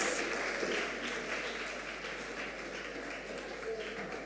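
Applause from the audience at a junior high school science and maths quiz semifinal comes as a moderate, fading wash of many hands clapping, with a voice speaking over it.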